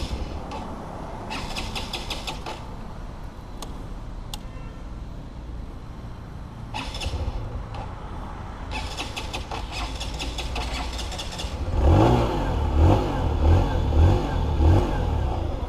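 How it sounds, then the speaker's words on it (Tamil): A 2025 TVS Star City Plus 110 motorcycle with an OBD 2B E20 engine fires up after quiet mechanical clicks, then settles into a low, steady, pulsing exhaust idle close by. "எக்ஸாஸ்ட் சவுண்ட் வந்து கேட்டு பாருங்கள்."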